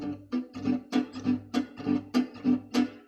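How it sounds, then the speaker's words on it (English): Rhythm guitar accompaniment played in an upstroke style: about a dozen short, crisp chord strokes in an even, swinging pulse, close and moderately loud, with no talking. "So the upstroke style sounds something like this."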